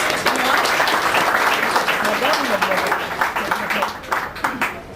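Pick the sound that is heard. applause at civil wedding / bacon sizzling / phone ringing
applause at civil wedding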